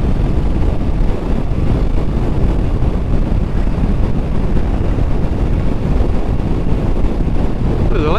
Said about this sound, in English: Whoa! It sure is windy.